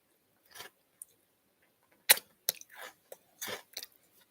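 Someone eating cheese crackers, with a few separate crunchy bites and chews spaced across a quiet pause, close and fairly soft, with no talking.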